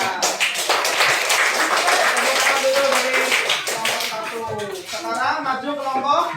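A room full of people applaud a presenting group with dense, rapid clapping that fades after a few seconds, then voices begin talking.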